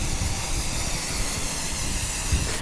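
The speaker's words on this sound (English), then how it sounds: "Shake this up, and then you just spray around the rim." An aerosol can of tire shine sprays around a car tire rim, a loud, continuous close-up hiss that holds steady for a few seconds before cutting off.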